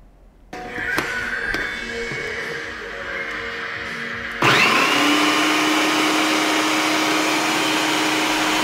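A blender whirs through oats, baking powder, vanilla and two raw eggs, a loud steady motor drone that jumps to a higher, harsher pitch about halfway through, close and with no voices.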